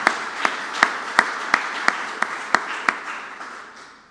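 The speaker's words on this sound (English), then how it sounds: "Big round of applause for these guys." Applause for a small group of presenters at a White House roundtable on zero-emission freight infrastructure: a wash of clapping with sharp, evenly spaced claps standing out, tapering off toward the end.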